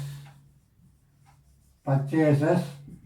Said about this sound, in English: So I am writing here purchases